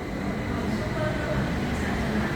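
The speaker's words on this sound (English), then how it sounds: "here comes my train at 6:13 a.m." A BTS Skytrain train arriving at Samrong Station in Bangkok at dawn, a steady loud rumble and rolling noise throughout, mixed with station ambience.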